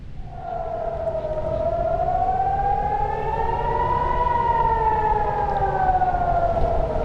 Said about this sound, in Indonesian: Sirene pun menggema membuat warga Israel panik.